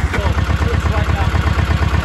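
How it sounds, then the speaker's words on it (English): Tractor engine running on an off-grid homestead, a loud, close, rhythmic low chugging that pulses evenly throughout, with voices talking over it. "So now we're going to drive the tractor down here and cultivate this little rascal."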